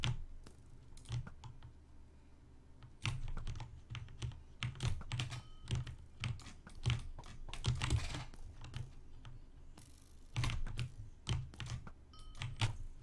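Rapid, frantic keyboard key spamming mixed with fast jitter mouse clicking during PC game combat, a dense close-up clatter of sharp taps in uneven bursts with no talking.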